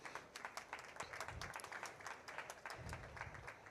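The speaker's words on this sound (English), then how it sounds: "A round of applause as he comes." An audience claps at the opening plenary of the 2025 OGP Africa and Middle East regional meeting as a speaker arrives, steady hall applause heard from a distance, fairly faint, with a few low thumps.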